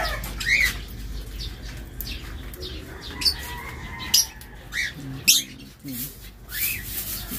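Pet birds, including lutino birds, squawk and chirp in an aviary, with sharp cries scattered over rustling and wing flutters. A person speaks quietly in the background.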